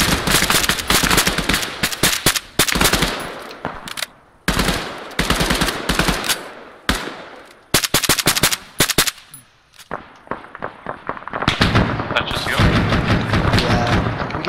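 Heavy machine gun fire in a military video game, loud rapid bursts and repeated sharp shots crowding most of the stretch with a brief lull near the middle, while voices talk over the shooting.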